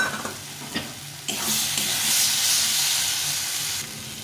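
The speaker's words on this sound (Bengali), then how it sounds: "এখন আমি এর মধ্যে এই ভেজে রেখেছিলাম আলুটা দিয়ে দেবো।" Fried potatoes dropped into spice masala in a hot pan, which bursts into a loud, steady sizzle and hiss with light stirring, close up and with no talking.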